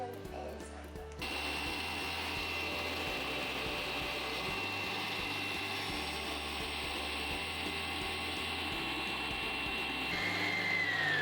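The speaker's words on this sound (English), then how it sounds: "Now we're going to switch the whisk on." An electric whisk runs continuously while mixing homemade ice cream ingredients, a loud steady whirring drone with slight pitch shifts, starting abruptly after a short quieter moment.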